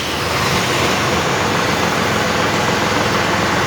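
Diesel engine of a John Deere 5310 tractor running at a steady idle close by, a loud, even rumble with no breaks and no talk.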